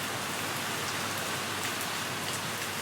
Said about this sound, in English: but it's absolutely pelting down.